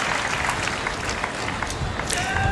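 An audience at an India Day 2012 celebration claps after a performance, a moderate crowd clatter under a speaking voice and crowd murmur.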